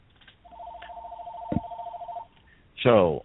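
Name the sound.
phone ringing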